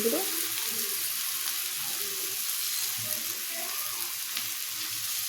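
Cumin powder fries in hot spiced oil, giving a steady, close sizzle that runs unbroken throughout.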